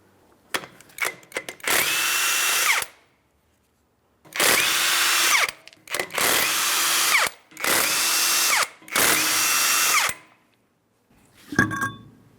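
Power tool removing the 21mm lug nuts on a Ford Transit 250 rear wheel: several loud whirring bursts of a couple of seconds each, separated by pauses, with clanks at the start and end.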